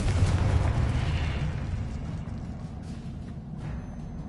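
A Confringo blasting-spell explosion in a Hogwarts video game bursts out as a loud, deep boom that rumbles and fades over a few seconds.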